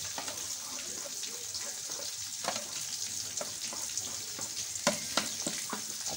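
Green chutney is stirred into yogurt for dahi bhalla, making a soft, wet, sloppy mixing sound close up. Irregular squelches and light spoon clicks sound over a hissy background.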